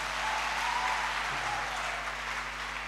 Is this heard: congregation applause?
yes